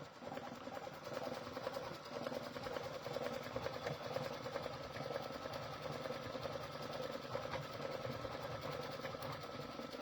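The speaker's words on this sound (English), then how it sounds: "it shows you where you're stitching there as well" A Baby Lock embroidery machine stitching in the hoop, giving a steady, even, rapid mechanical whir and needle chatter that runs continuously at moderate volume without pauses.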